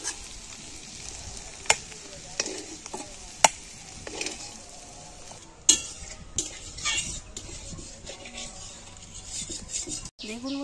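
A pan of bitter gourd curry comes off a kitchen stove with scattered metallic clinks and scrapes of pot and utensil over a low sizzle, several sharp knocks standing out near and loud.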